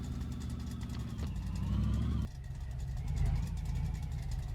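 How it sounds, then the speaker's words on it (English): A car towing a trailer rolls slowly into a residential driveway, its mid-pitched engine humming steadily near the microphone, swelling briefly as it moves, then easing back toward idle. "we are pulling into Hugo's driveway"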